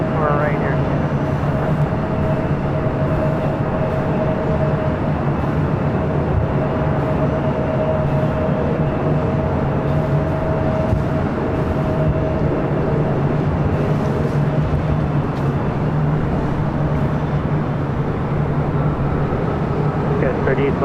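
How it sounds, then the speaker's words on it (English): An Air Canada Boeing 737 MAX 8 jet rolls on the runway at LAX, its engines giving a steady, loud, broadband roar and whine that holds for the whole stretch without a break. "It's Air Canada. It's like 555, 555 heading to Vancouver, 737 MAX 8."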